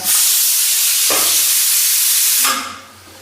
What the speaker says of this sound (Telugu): కాసేపు కుక్కర్ తీసి పక్కన పెట్టేస్తాము కుక్కర్లో ఉన్న ప్రెజర్ అంతా పోని